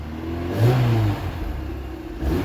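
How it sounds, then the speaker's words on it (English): A Ford 2.0 SOHC Pinto engine with a Weber 30/34 carburettor, running slightly rough, is revved twice in short blips that rise above its lumpy idle, heard close with no talking. "And we'll see if I give it a few revs"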